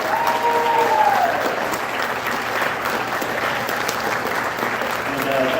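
Sustained applause from a crowd at a sports awards banquet honoring back-to-back state champions, steady and dense clapping filling the room throughout, with some voices mixed in.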